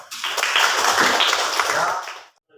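Classroom students clap together in a brief, dense burst of applause lasting about two seconds before it cuts off.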